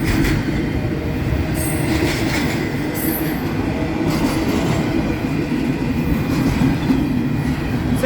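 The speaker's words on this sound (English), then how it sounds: "Long train, my God." A long Union Pacific freight train rolls steadily past close by, with a continuous heavy rumble, rhythmic wheel clatter and occasional brief wheel squeals, loud and unbroken throughout.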